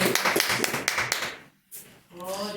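Clapping in a church service, a burst of sharp, close claps and taps that fades into a short pause before a voice begins speaking.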